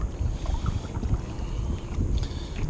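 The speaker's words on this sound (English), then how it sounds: "I'm just trying to make sure I get a feel for how to paddle." Kayak paddling on open water by a first-time kayaker, with a steady low wash of water and wind buffeting the microphone throughout, no distinct paddle strokes standing out.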